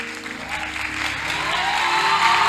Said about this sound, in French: Je voudrais que nous acclamons ensemble celui que nous avons appelé